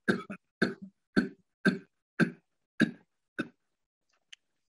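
Seven harsh coughs in a steady series, each short and forceful, fairly close, followed by a faint click after a brief pause.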